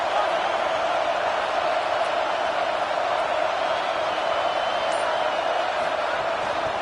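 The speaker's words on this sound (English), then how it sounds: "This crowd full throat, splitting the eardrums and letting them know it's going to be a long day." A stadium crowd at a Georgia vs South Carolina college football game roars at full throat, a loud, steady, unbroken wall of cheering that barely varies for several seconds.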